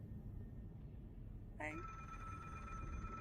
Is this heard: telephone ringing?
yes